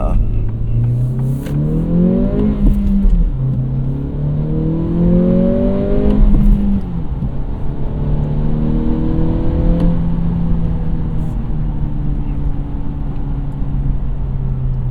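A 2023 Acura Integra accelerates hard and its engine note climbs steadily through the gears with clear upshifts. It is heard from inside the cabin, with a steady road roar underneath.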